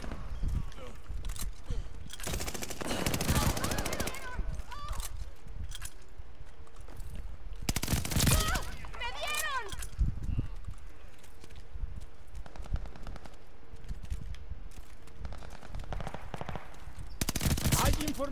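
Scattered bursts of automatic gunfire in a Call of Duty: Vanguard multiplayer match, moderately loud amid game noise and footsteps, with someone speaking Spanish over much of it.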